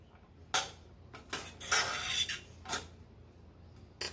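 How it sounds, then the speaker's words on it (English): A utensil stirring melting butter into cooked fluffy rice in a pot: several close scraping and clinking strokes in irregular bursts, with quiet gaps between, no talking. "Stir the butter in."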